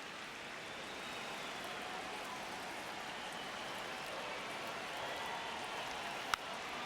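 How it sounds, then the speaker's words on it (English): A baseball stadium crowd in the video game MLB The Show 26 roars as a steady, even wash of noise, broken by a single sharp click near the end. "at least this crowd is very loud"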